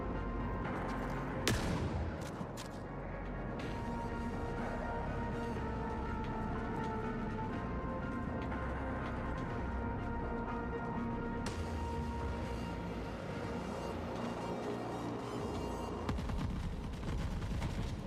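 Turrets firing in The Forever Winter, a long stretch of steady bursts and booming impacts mixed with other battle noise, moderately loud and continuous.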